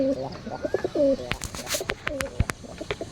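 A pigeon at a fancy pigeon fair coos in repeated soft, rolling phrases, close by, with sharp clicks and bustle in the background.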